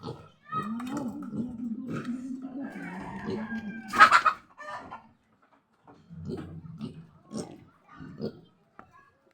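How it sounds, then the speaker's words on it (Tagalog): A chicken that has wandered into a piglet pen clucks and squawks nearby, with one sharp loud squawk in the middle, while people talk and exclaim around it. "Oh, may manok na nakapasok."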